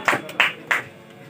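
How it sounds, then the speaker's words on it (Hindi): Three separate sharp claps ring out in a classroom at a teacher's call, evenly spaced and moderately loud, followed by quiet. "सिट डाउन, ताली बजा दो।"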